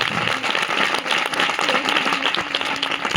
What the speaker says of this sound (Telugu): బిగ్గరగా చప్పట్లు కొడదాం, బిగ్గరగా చప్పట్లు